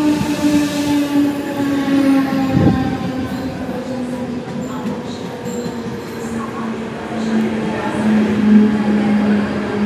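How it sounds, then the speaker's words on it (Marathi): A local Mumbai train bound for Chhatrapati Shivaji Maharaj Terminus rolls into a station with a loud, sustained rumble and humming tones, metallic wheel noise and a sharp squeal partway through. "तर आली समोरून ट्रेन आली, ट्रेन 751ची आहे"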